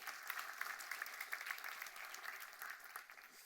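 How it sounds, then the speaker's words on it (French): Church audience clapping for a group of teenagers at a French-speaking service, a steady crisp round of applause with distinct hand claps, moderately close and fairly quiet. "On peut les applaudir, merci d'être là."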